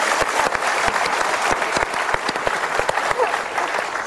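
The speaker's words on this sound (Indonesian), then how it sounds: "Sekali lagi kita berikan tepuk tangan." An audience at a Mario Teguh Golden Ways motivational talk show breaks into steady, loud applause, a thick continuous wash of many hands clapping that holds level throughout without a break.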